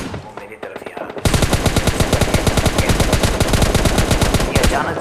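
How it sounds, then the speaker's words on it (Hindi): Rapid automatic rifle fire from an M416 in PUBG Mobile Lite gameplay, a loud sustained burst of evenly spaced shots starting after a quieter second and continuing to the end. "फायरिंग की आवाज़ मिलने लगी साइड से"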